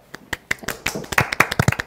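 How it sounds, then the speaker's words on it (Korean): Scattered hand claps from a small lecture audience greet a Korea University professor at a Saturday science talk, the sharp individual claps coming irregularly and fairly close, thin rather than a full ovation. "큰 박수로 모셔보도록 하겠습니다"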